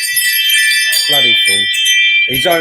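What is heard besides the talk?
doorbell ringing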